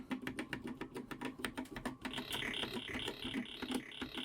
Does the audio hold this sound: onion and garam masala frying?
no